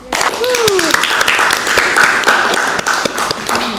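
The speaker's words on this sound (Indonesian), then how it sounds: "Kita beri aplaus untuk semuanya" An audience applauding in a university teaching session, a steady patter of many hands clapping close by, with a voice speaking over it.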